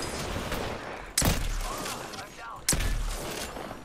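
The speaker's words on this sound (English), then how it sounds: "I don't know what I'm shooting." Gunfire in a shooter video game, two sharp loud bursts about a second and a half apart over a constant rumbling game background.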